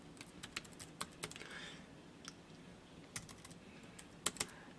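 Quiet keystrokes tap on a computer keyboard in an uneven run of separate clicks, a few sharper presses near the end, with no talking.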